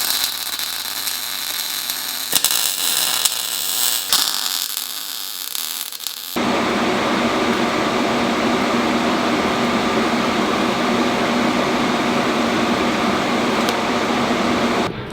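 TIG welding thick metal gussets onto a custom engine cradle for a Subaru EZ30R-swapped Porsche: a faint crackly hum is broken by a couple of clicks, then a loud, steady buzzing hiss starts and holds without talk.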